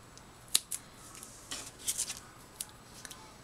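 Scissors cut a large handmade card in half: a few crisp, close snips in quick bursts with short pauses between them, over quiet room tone and no talk.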